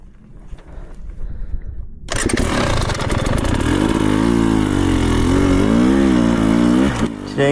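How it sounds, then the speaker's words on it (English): A four-stroke dirt bike ridden uphill starts quietly, then its engine surges into a loud, close, sustained drone with rising and falling revs and wind buffeting. "I definitely do better on that climb on the 4-stroke."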